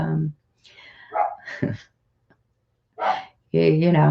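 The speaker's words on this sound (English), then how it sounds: "my dogs are going crazy barking" Several dogs bark excitedly in short bursts in a home studio, loud and close, with pauses between the outbursts.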